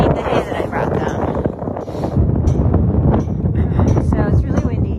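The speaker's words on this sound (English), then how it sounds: "So it's really windy." Strong wind gusts roar and buffet the microphone outdoors near horses in a ditch and alleyway, a steady broadband rumble.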